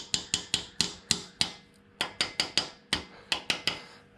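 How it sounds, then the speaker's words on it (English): Copper hammer tapping a new wheel bearing into a semi-floating rear axle on an FJ40, a series of sharp metallic taps in irregular bursts of three to five, close and clear with no talking. "Just going to slight tap with just a copper hammer."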